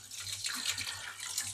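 Cold tap water running steadily into a sink while cure is rinsed off a salmon fillet, a continuous close splashing hiss with no talk.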